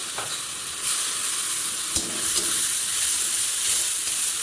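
Mustard paste and chili paste sizzle in a pan for a fish curry while being stirred, a steady bright hiss broken by a few sharp scraping clicks of the spoon.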